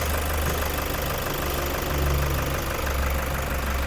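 A 2015 grey Toyota Commuter 3.0 diesel van idles steadily close by, its low mechanical chatter continuous and loud with no talk over it.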